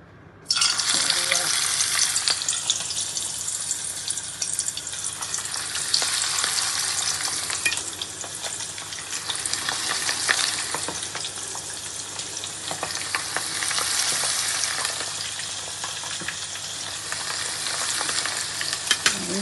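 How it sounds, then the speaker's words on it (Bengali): Chicken wings fry in hot oil, a loud, steady, close sizzle lasting throughout with some stirring, no talking. "চিকেন উইংস এখন বাজি লইমু"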